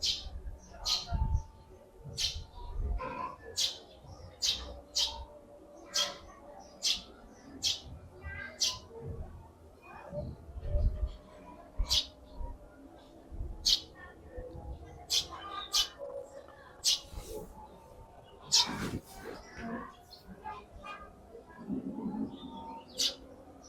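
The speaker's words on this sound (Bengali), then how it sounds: "পাখির কথা নিশ্চয়ই শুনতেছেন আওয়াজ" Birds nesting on a balcony call with sharp, repeated chirps that come in irregular bursts over a low, faint background murmur.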